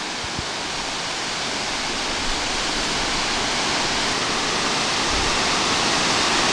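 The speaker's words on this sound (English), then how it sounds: "We're heading for another waterfall." A steady, dense roar of falling water fills the air, constant and broadband with no letup, close to the Big Falls in Sir Richard Squires Memorial Park, Newfoundland, Canada.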